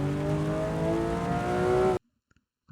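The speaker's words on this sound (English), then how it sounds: "Let me turn up the audio bit of the engine" A race car engine in the Assetto Corsa EVO racing game revs steadily with rising whining tones, loud and continuous for two seconds before cutting off abruptly to near silence.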